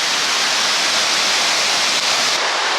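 Waterfall at Letchworth State Park, a steady, loud broadband roar of falling water filling the whole stretch, unbroken and close, with no voices.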